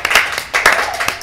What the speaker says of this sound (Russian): Можно аплодисменты,